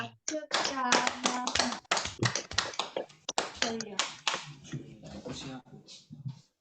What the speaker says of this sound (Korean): 유빈이가 아주 그냥 재밌게 치네 박수를